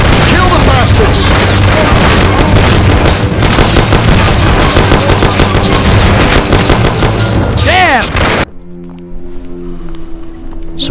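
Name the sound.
gunfire shootout in video game Mafia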